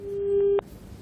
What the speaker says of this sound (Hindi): प्रेम की जो कॉल है वो डिस्कनेक्ट हो गई है